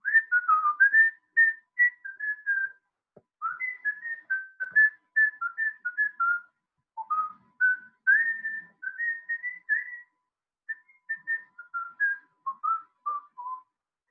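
A lone person whistles a lilting melody in clear, bright phrases with short pauses between them, close and unaccompanied.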